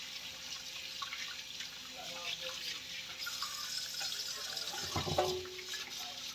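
Running tap water splashes steadily over a pork hock in a sink as it is rinsed before boiling, with a louder burst of splashing near the end.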